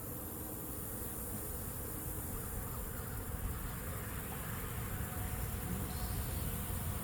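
Honey bees buzz during a hive inspection in a soft, continuous hum that stays even and fairly quiet, with no voices over it.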